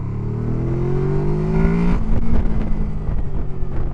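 A Honda engine revs hard past 6,000 RPM as VTEC engages, its tone rising steadily and sharpening before dropping away abruptly after about two seconds into rough, clattering idle; loud and close, no talking.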